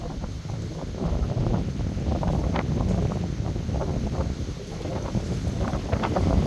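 Strong wind gusts outdoors at a rural house garden, buffeting the microphone in a continuous loud roar with rustling, steady throughout with brief surges and no talk.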